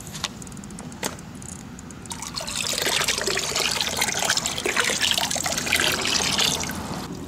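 Nutrient solution pours into a hydroponic container for lettuce grown outdoors in winter, a steady close splash and trickle that begins faintly, then swells into a continuous pour lasting several seconds.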